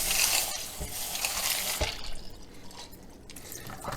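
Running water from a tap splashes and drips steadily as dry pasta shells are rinsed in a kitchen, moderately near with a continuous wash and no talking.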